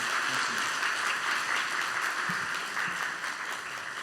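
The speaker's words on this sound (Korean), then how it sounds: "우리 환영의 박수 한번 드릴까요?" Church congregation applauding to welcome a preacher to the front of a Sunday morning service, a dense, steady wash of many hands clapping that holds throughout and fades slightly at the end.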